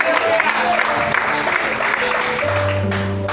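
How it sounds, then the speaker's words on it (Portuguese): Applause fills a church as the congregation claps to glorify God, a steady, dense roar of hands with faint voices and a low instrumental tone entering in the last second. "Aplaude e glorifique a Deus."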